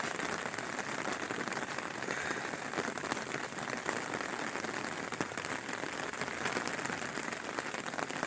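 Steady all-day rain falls on surfaces, a faint, even hiss of countless drops that holds without a break for the whole stretch, with no voices.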